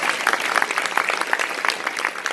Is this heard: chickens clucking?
no